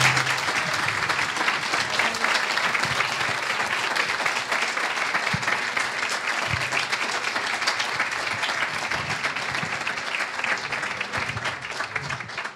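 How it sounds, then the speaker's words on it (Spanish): A lecture-hall audience applauds steadily for several seconds after a talk, a dense, even wash of clapping with no voices over it. "Primero vamos a dar un aplauso a Miguel para poder escuchar"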